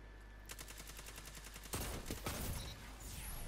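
Gunfire in the Destiny 2 video game: a rapid burst of repeated shots, then heavier, denser firing with loud impacts over a steady background hum, with no talking.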